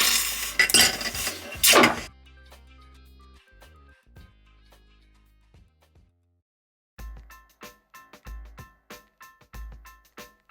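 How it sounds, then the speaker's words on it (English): A hand-cranked pasta-style rolling machine made for metal thins wire for chain links, giving a run of rhythmic metallic clanks and clinks after an earlier burst of louder clatter, with quiet gaps in between. "after that, it's to the pasta machine made for metal"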